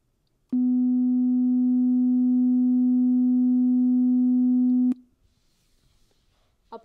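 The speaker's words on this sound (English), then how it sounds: "I'll show you the tone that you should hear." A single pure, steady sine-wave tone, a Tartini difference tone, holds for about four seconds, then cuts off sharply, leaving near silence.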